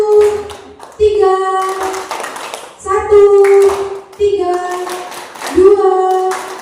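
Elderly women at a care home clap their hands in short bursts during a counting game, while a leader's voice calls out over and between the claps.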